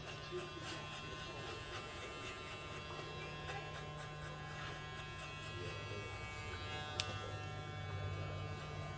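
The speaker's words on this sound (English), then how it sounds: "It's a quiet clipper." A Caliber 50 cal hair clipper runs in a barbershop with a steady, low electric hum and buzz, even and continuous throughout, with faint clicks and room sounds.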